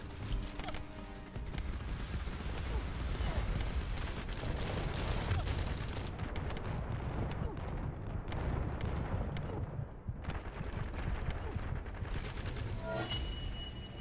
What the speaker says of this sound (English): Damn, that rocket spam.